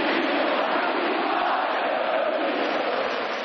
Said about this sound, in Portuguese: expectativa de uma torcida que canta e vibra, sonhando agora com o bicampeonato